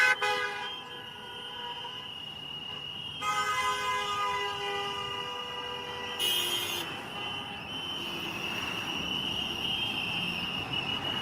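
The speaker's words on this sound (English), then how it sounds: "all the cars that are honking their horns" Car horns honk repeatedly on a busy Chicago-area street during a high school protest near a gas station, several long overlapping blasts of differing pitch, some near and some farther off, over steady traffic and crowd noise.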